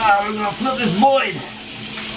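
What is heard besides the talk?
duck frying and sizzling in a pan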